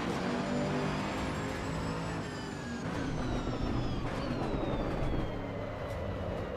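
GT2 race car engine in the Assetto Corsa EVO racing game, a steady high-pitched drone that rises and shifts through gear changes, fairly faint and continuous with no talk.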